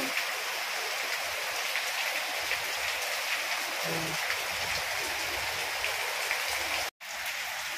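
Rain falls steadily outside a house in Ciamis, a dense even hiss with no voices, briefly cut off near the end.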